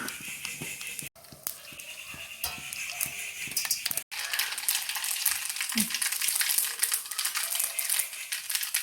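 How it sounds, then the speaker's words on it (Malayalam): Mustard seeds crackling and spluttering in hot sesame oil in a heated pan, a close, steady sizzle with sharp pops throughout and no talking. "നമ്മൾ ഇതിലേക്ക് അല്പം കടുകിട്ട് പൊട്ടിക്കുക."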